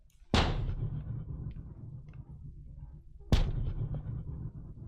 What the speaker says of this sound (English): Why do I hear thumping?